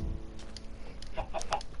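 A video-game chicken clucks in a few short, quick bursts at moderate volume, with no talk.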